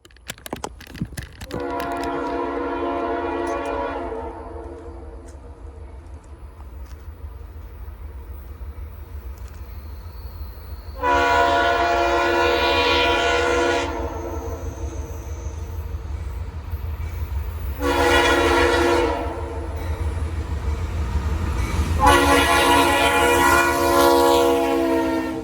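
A freight train horn blows for a crossing in a long-long-short-long pattern of loud chords, with the heavy rumble of the train rolling past underneath throughout.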